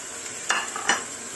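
Carrot sizzles in a hot pan for vegetable lumpia filling, a steady close frying hiss broken by two quick scraping stirs of the spatula, with no talking.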